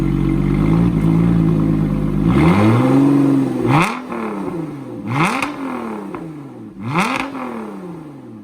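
A 2017 Lotus Evora 400's mid-mounted engine idles loudly after startup, then is revved in three sharp blips with rising and falling pitch, close and strong.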